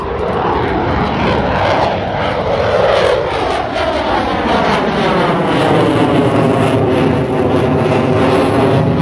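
A loud aircraft engine roars steadily overhead as a jet departs from the airfield, its pitch sweeping downward with a swirling, phasing rush that lingers throughout, with no talk.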